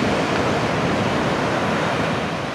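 Open Atlantic surf at Albufeira, Portugal, breaks on the shore in a continuous loud wash of roaring white noise, close by and unbroken, with no voices.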